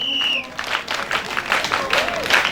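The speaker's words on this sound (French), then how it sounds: "Ah, donc acclamez très bien." Audience applause at the official launch of an Orange Bank loan project, a short burst of clapping mixed with crowd noise and overlapping voices.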